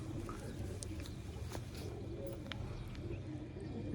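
Pigeons coo softly among a pair-checking session at a pigeon keeper's loft, the low calls half-buried in steady broadband background noise and scattered rustles.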